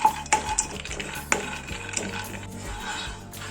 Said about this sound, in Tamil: இப்போ பாதாம் ஃப்ரை பண்ண போகிறோம்.